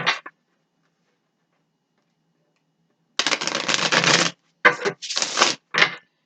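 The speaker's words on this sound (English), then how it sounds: "let's bring out the Gilded Tarot. I'll give it a shuffle or two." Gilded Tarot cards shuffled in a few bursts: a brief riffle at the start, a pause, then a longer riffle followed by three short crisp shuffles, close and alone.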